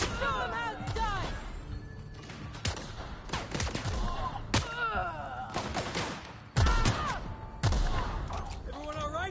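Gunfire in The Outer Worlds video game comes in several sharp bursts and volleys, some close and loud, mixed with shouting voices and grunts.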